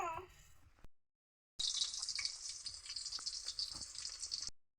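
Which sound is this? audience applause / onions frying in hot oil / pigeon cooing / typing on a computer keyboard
onions frying in hot oil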